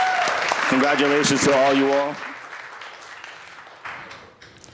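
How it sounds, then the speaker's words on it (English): An audience at a Hispanic Heritage celebration in a city council setting claps under someone speaking into a microphone, and the applause tapers off quickly once he finishes. "Can we give a round of applause to the nominees again before I start?"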